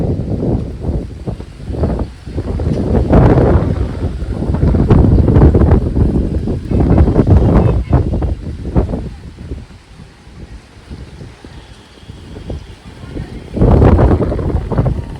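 Strong gusting wind from an unseasonal storm roars across an open farmyard where paddy is laid out on a carpet, a steady broadband rumble swelling and easing in waves while people talk over it.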